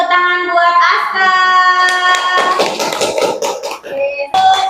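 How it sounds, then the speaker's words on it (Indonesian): Schoolchildren in a classroom clap for a classmate, a short patter of hand claps mixed with children's voices and a teacher speaking nearby. "Oke, beri tepuk tangan buat Aska"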